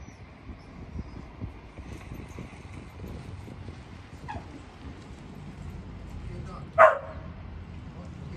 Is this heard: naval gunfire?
no